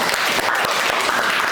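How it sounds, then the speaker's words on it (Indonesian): A classroom of students applauds their classmates after a sociology presentation, a brief burst of steady, close, full clapping. "tepuk tangan untuk temannya."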